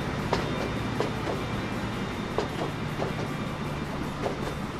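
Freight train wagons roll through a station in the video game Train Fever, a continuous rumbling rail noise with regular clickety-clack wheel beats over the joints, steady and fairly loud.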